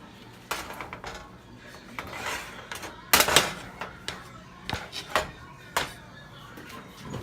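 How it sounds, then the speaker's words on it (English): A metal baking pan holding stuffed crabs with shrimp goes into a kitchen oven, giving scattered clanks, taps and scrapes of metal, with one sharper clatter in the middle, near and moderately loud. "Goes in the pan. I'm about to put it in the oven."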